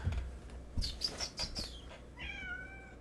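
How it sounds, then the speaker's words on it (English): A cat lets out a drawn-out meow after a few soft chirpy sounds, fairly close in a quiet room. "Meow."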